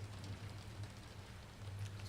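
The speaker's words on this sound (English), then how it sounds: "listen to the sound of the rain on the tin roof of this thing" Rain drumming on a tin roof in the Generation Zero video game, a steady dense patter with a low hum underneath, faint and continuous, no talking.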